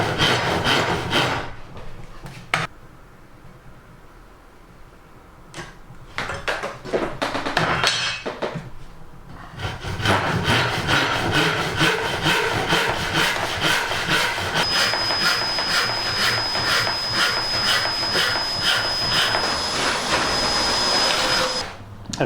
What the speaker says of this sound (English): I'm now going to do the same thing with my Owen Universal Saw.